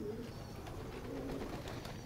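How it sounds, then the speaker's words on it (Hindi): A Chinese pigeon coos softly and continuously, faint and close against a low background hum. "ये मेरा डब वाला चीना कबूतर है जी।"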